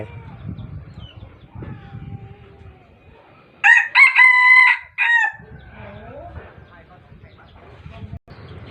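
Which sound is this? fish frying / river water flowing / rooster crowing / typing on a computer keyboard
rooster crowing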